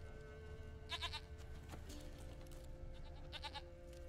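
A goat in The Witcher bleats twice in short, wavering calls that are moderately close, set over a constant low game ambience with a faint whistle-like tone between them.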